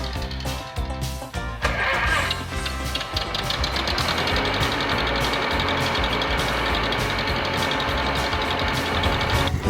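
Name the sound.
antique tractor engine running in a parade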